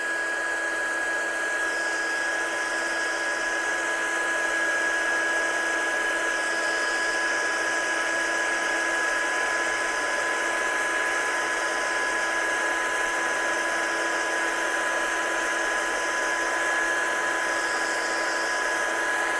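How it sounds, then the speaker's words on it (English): A heat tool blows steadily to set embossing powder, a constant whirring drone with a fan hiss that stays level and unbroken from start to finish, with no talking over it. "So let's heat set this one."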